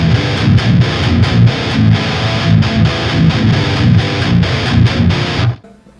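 Heavy, distorted electric guitar through a JST Guilty Pleasure amp simulator chugs in a rhythmic riff with dense low-end crunch, loud and continuous before cutting off abruptly near the end.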